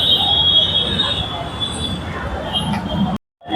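A Mumbai metro train runs, heard from inside the carriage: a steady rumbling roar with a thin high squeal from the wheels, then an abrupt cut to silence near the end.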